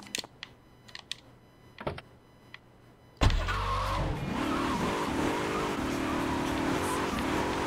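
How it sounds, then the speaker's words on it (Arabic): A car engine in GTA III Definitive Edition starts up abruptly after a few seconds of quiet clicks, then runs loud and steady with a shifting revving drone until the end. "لاحظوا صوت السيارة نفس صوت سيارة سيارات سان أندرياس"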